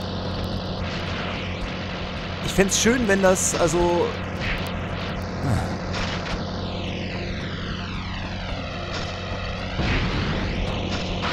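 A propeller airplane drones in the Spider-Man 2: Enter Electro video game, its engine tone sweeping in pitch as it passes, under someone speaking and other game effects.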